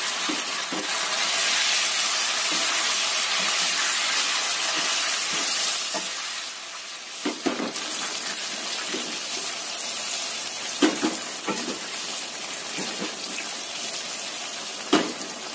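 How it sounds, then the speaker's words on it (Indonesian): Tofu frying in hot oil for gulai tahu, a dense steady sizzle with occasional pops and crackles, loud and close throughout. "Kita goreng tahunya, nggak sampai matang sih, setengah matang aja tahunya ini kita goreng."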